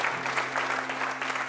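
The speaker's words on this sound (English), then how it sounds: "So give them a big round of applause." A live audience applauds a band at an intimate live session, dense steady clapping filling a short burst at moderate loudness with no voices over it.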